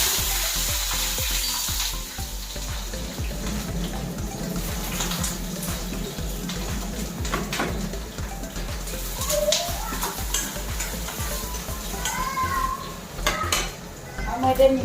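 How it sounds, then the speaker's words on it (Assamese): Potatoes frying in hot oil with panch phoron and dried red chilli, a steady close sizzle with clinks of a utensil against the pan and stirring, birds chirping faintly in the background. "তেল গৰম হ'ল শুকান জলকীয়া পাঁচফোৰণখিনি দি দিছোঁ তাৰপিছত ইয়াত দি দিম এতিয়া মই আলুখিনি"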